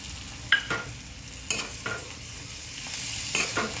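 A spoon scrapes and stirs crushed peanut powder and coriander through capsicum curry in a pan. Several distinct scraping strokes stand over a soft sizzle, close and fairly quiet, with no voices.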